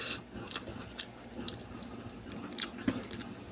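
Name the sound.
eating and chewing food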